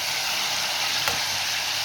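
Mutton sizzling in hot oil in a pan, a steady dense crackle and hiss running unbroken, close and fairly loud, with one brief sharper pop partway through and no voices.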